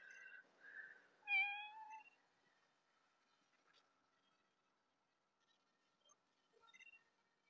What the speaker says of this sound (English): A cat is right now, right next to me, right at this current moment.